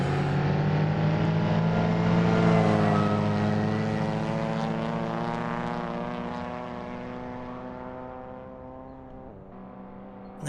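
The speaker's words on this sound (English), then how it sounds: "That exhaust note sounds just bang on to me." A modded car in Assetto Corsa drones past with a steady, harmonic-rich engine and exhaust note, loud at first, then easing and fading slightly as revs settle, with no talking.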